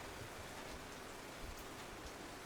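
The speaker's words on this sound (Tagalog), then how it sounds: "Yan o, ulan na naman, wala kasang ulan." Steady, dense rain hisses continuously at a low level, with a few soft drops and thuds standing out.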